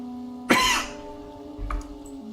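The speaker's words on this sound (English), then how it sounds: "Sorry for coughing, by the way," A single harsh cough rings out close to the microphone against a steady tonal game background, followed a moment later by a softer throat noise.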